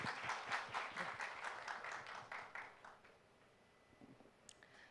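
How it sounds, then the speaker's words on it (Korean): At a university campus talk concert, an audience gives a brief round of applause to welcome a provincial official onto the stage, the clapping rather faint and tapering off after about three seconds. "여러분 박수로 환영해 주시기 바랍니다."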